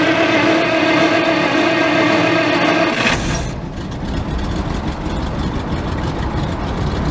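A combine harvester's heavy engine drones steadily, then the tone shifts to a rougher, broadband rumble after a few seconds as the header runs, loud and close.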